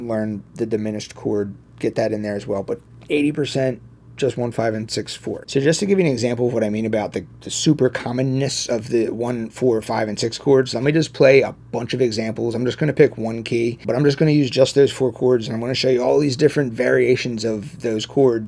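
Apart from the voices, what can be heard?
No everyday noises stand out.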